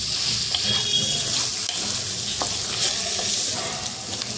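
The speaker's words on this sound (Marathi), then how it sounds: "आता ह्याला चांगलं मिक्स करून घ्यायचं, हलवून असं छान" Fish curry masala is stirred and mixed in a pan, giving a loud, constant hissing sizzle with faint scraping and clicks of a utensil underneath, close-up and with no voices.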